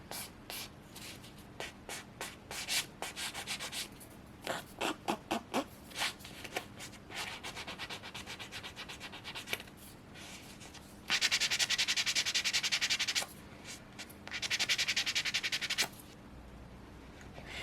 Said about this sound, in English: I don't get too intense with filing this first layer